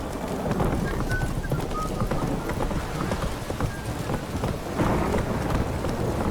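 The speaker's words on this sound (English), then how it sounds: "This downpour's a bastard" Heavy downpour with distant thunder rumbling in The Witcher 3, a steady wash of rain filling the scene while horse hooves clop faintly beneath, no talking over it.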